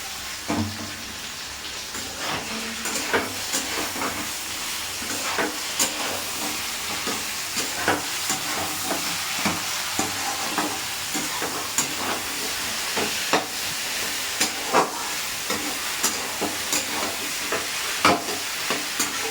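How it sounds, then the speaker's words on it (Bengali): Mixed vegetable chorchori frying in a pan with mustard paste gives off a steady close sizzle and hiss, broken by repeated scraping stirs at an irregular pace, with no talking. "চলো এটা ততক্ষণে ভাজা ভাজা হবে।"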